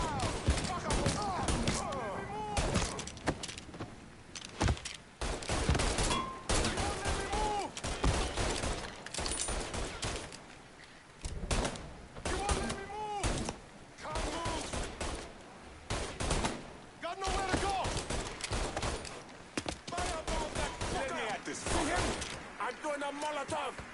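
Repeated bursts of rapid gunfire in a Mafia 3 shootout, loud and close, coming in clusters across the whole stretch. A voice shouts over the shots.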